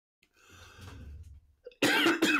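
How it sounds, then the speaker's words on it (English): A single person with a cold coughs close to the microphone: a soft breathy throat sound first, then a loud, harsh burst of coughing at the end. "sorry about the cough"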